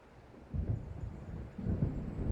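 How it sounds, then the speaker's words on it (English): Thunder from an approaching storm in the Alan Wake video game rolls in as two low, rumbling swells, moderately loud and fairly distant, with no other sounds present. "It seems there's a storm coming."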